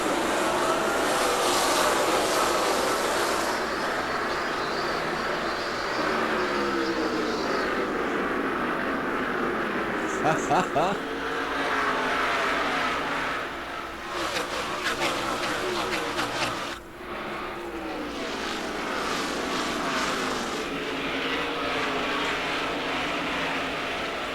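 NASCAR stock cars race at Richmond in the 2002 Chevy Monte Carlo 400, a continuous loud roar of engines at a night race, swelling and fading as cars pass, with people talking over it throughout.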